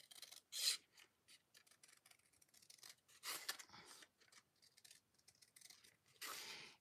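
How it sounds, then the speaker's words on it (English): Scissors cutting paper during scrapbooking: a series of short, crisp snipping and slicing strokes at close range, each burst separated by brief pauses, quiet overall with no talking. "so I'm gonna cut it with my scissors."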